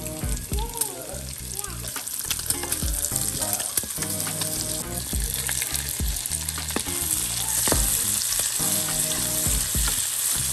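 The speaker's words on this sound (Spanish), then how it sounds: "me voy a hacer un omelette con tocino, cebolla, champiñones, brócoli, espárragos, pimiento, queso" An omelette with bacon, onion, mushrooms, broccoli, asparagus, bell pepper and cheese frying in a pan, a steady close sizzle with stirring clatter over background music.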